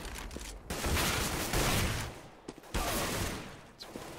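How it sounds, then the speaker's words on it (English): Rapid bursts of gunfire from a Galil rifle in a professional Counter-Strike match on the Cobblestone map, dense and close, with brief pauses between volleys and no talk. "Gets taken down by the Galil from Blade"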